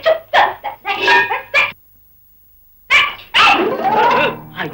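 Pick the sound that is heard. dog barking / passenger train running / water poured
dog barking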